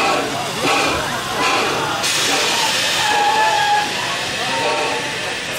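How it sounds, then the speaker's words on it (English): A Christmas-themed park train called the Holly Jolly Express pulls into a station at a Tampa theme park, giving off steady steam hiss and rail rumble with a faint whistle-like tone, mixed with crowd noise and nearby voices. "There's the amazing Christmas train."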